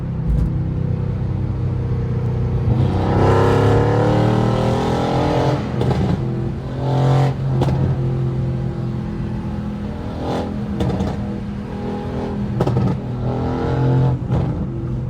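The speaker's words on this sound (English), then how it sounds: "the whole sound, the tone, the way it sounds, the way the turbo spool, it just sounds completely different now" Mercedes-AMG C63s with catless downpipes accelerates through a small tunnel, its loud, echoing exhaust rising and falling through several pulls, with turbo spool and sharp crackles between revs, close and sustained.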